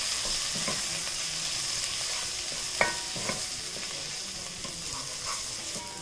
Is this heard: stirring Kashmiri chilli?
yes